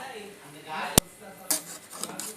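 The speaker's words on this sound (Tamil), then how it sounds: "கரண்டி ஏதாவது வச்சு இப்படி லைட்டாக கிளறி விட்டுக்கோங்க" A ladle scrapes and clinks against a pan as cauliflower is gently stirred for a Tamil-style cauliflower fry, with one sharp metallic knock and a few softer scrapes close by.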